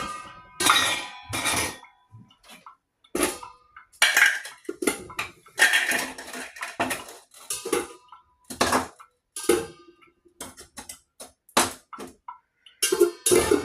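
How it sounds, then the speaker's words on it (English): Ice cubes clatter and clink into a metal cocktail shaker for an old fashioned, in irregular bursts of rattling knocks and clanks separated by short pauses. "Let's add more ice into our shaker."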